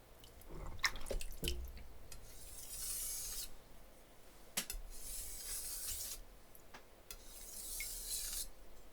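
A knife edge is cleaned up on a whetstone, with soft rasping strokes in separate bursts, some sharp clicks and wet drips in between, quiet and close.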